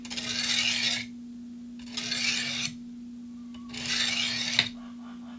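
A dull knife blade is drawn across a coarse sharpening stone in three separate gritty rasping strokes, close and clear, with short pauses between them over a steady low electrical hum.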